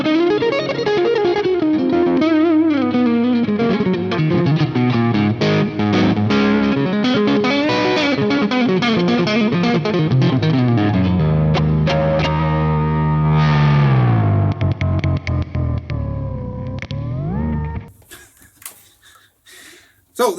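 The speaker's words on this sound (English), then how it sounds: "What I also like about the distortion, even though it's a high output pickup, it cleans really nicely." An ESP Custom Shop electric guitar with a high-output pickup plays a loud, sustained riff through heavy distortion with echo for about eighteen seconds, then the notes cut off and a few brief noises follow.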